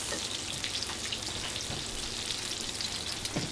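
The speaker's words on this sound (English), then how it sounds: "my salmon is cooking" Salmon frying in a pan, a steady, dense sizzle with crackling spatter running evenly throughout, close and fairly quiet, with no talking.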